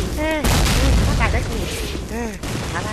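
Loud gunfire booms and bursts in an online shooting game on the Stalingrad City map, with heavy blasts at intervals under excited spoken commentary from a player.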